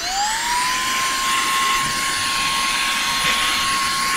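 A car vacuum cleaner runs steadily, a loud, continuous motor whine with a rising pitch at the start that then holds level over a broad airy roar.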